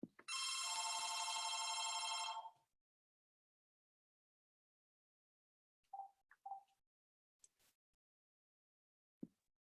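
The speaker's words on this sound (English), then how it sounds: "I'm going to end that phone call for 1 second." A telephone's electronic bell trills loudly for about two seconds, then a long silence follows, broken by a few faint clicks and beeps.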